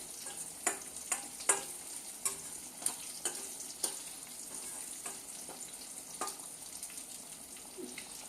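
Dal and broad bean curry fry in a pan with a quiet, steady sizzle, punctuated by sharp taps and scrapes of stirring that come thickly at first and then thin out, with no talking.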